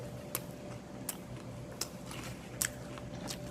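Several sharp, crisp crunches are spaced about a second apart, bites into banana-topped toast, close and fairly quiet against a low steady hum.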